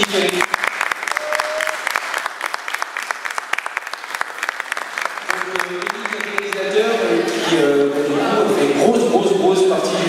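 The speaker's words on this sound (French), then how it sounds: "j'aimerais qu'on applaudisse toute l'équipe" An audience claps for a film team at a convention premiere. The applause is crisp and sustained, and a voice talks over it and grows louder toward the end.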